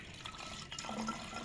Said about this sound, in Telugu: ఇప్పుడు వాటర్ వేసుకుందాం